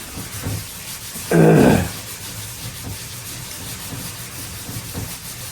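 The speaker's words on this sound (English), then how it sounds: "I'm sanding this spot putty with 180." A brief burst of rough rubbing, a single scrubbing pass of 180-grit sandpaper on spot putty lasting about half a second, then quiet room tone.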